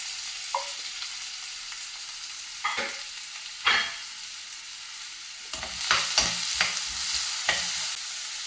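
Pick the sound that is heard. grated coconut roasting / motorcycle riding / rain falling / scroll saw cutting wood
grated coconut roasting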